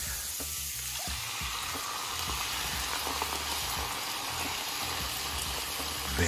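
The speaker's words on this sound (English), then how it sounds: "Stir up the onion, olive oil," Onion sizzles steadily in hot olive oil in a pan, with a few faint scrapes and knocks of stirring over a constant broadband frying hiss.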